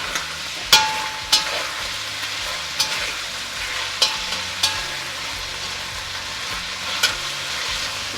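Skinless chicken thighs frying and browning in a pan for an Indian chicken curry, a continuous crackling sizzle with sharp spatula knocks now and then, nearby and without speech.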